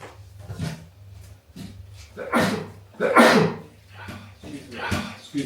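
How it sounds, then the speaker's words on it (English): A single loud, sharp sneeze bursts out mid-way, amid breathy sounds, while sourdough Ezekiel bread is being prepared in a home kitchen. "I've got a sneeze."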